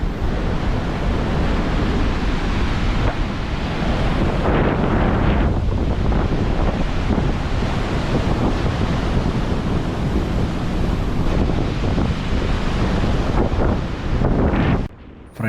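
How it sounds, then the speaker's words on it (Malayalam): Strong wind at a river viewpoint in Ezhattumugham, where water spills over rocks below, roars continuously and loudly across the microphone for about fifteen seconds, then drops off sharply near the end. "ഫ്രണ്ട്സ്, ഇവിടെ ഭയങ്കര കാറ്റാണ്."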